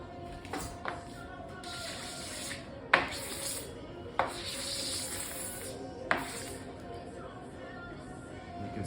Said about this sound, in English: You can see all the excess wax that comes up with the scraping.